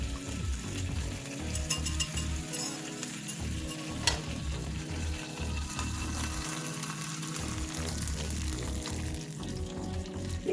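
A one-egg omelet of well-whisked egg cooks in a pan over low to medium-low heat, giving a steady soft sizzle that carries on evenly throughout with faint stirring noises and no talking.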